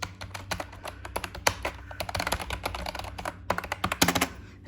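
Rapid typing on an HP K500F backlit membrane wired gaming keyboard, a dense, steady run of soft clicky key taps up close with no talking.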